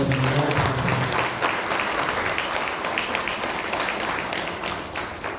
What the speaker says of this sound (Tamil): சும்மா இன்னொரு முறை கைத்தட்டிய